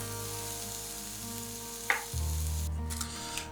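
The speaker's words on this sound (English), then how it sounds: "As each batch finishes, set it aside in a mixing bowl and continue until the squash and onions are cooked." Squash and onions sizzle steadily in a frying pan, a continuous close hiss with a brief stir clatter partway through.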